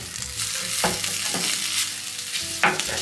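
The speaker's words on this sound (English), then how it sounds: "While this is all just frying up, I turn the stove up a little bit." Food sizzling and frying in a pan on a stove, a continuous crackling hiss with a few scraping stirs and clinks close by.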